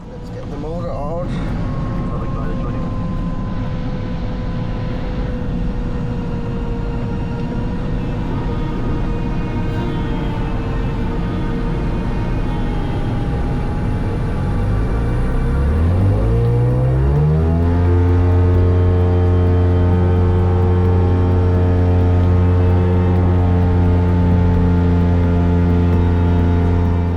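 Self-launching glider's motor running steadily in flight during a cross-country soaring trip over Germany, a loud continuous drone that spools up and settles into a strong harmonic tone partway through, with talk over it.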